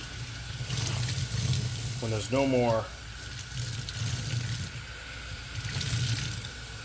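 Water runs steadily from a tap while a dirty Shark vacuum filter is rinsed under it, a constant hissing splash with brief pulsing surges, and someone speaks briefly over it.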